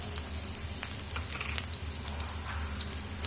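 Onion pieces, cumin and mustard seeds frying in hot oil, a steady close crackling sizzle with small popping bursts throughout and no talking.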